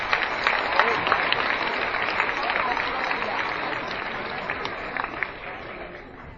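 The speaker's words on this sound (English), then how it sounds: "give him a round of applause" Sustained crowd applause at a veterans assembly greets a Navy petty officer: dense, steady clapping filling the room from start to finish, with no voices standing out.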